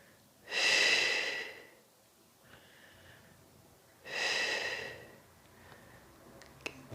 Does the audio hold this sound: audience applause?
no